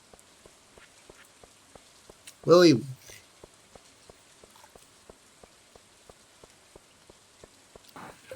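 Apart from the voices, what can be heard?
rain falling in the video game Stardew Valley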